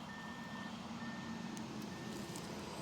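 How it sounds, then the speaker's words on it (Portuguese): A bus rumbles close by in a steady, loud drone, with a high electronic beep tone sounding repeatedly over it and no talking. "Olha só o ônibus."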